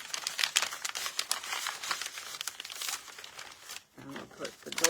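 A crinkly doily is handled and pressed into a feed bag journal, giving close, irregular papery crackles and rustles in quick bursts, with a brief quieter gap near the end.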